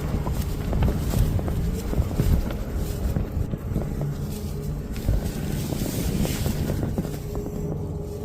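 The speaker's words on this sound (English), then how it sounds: "I know it's windy" Strong wind gusting at a campsite at night in the Appalachians, a steady loud rushing roar with low rumbling buffets against the microphone throughout.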